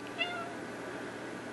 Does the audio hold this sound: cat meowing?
yes